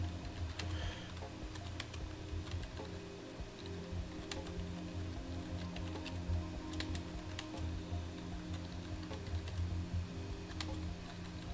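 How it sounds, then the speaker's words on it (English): Steady clicking of keys on a computer keyboard during a live esports broadcast break, quick irregular taps close to the microphone with no talking. "So pardon the typing noises."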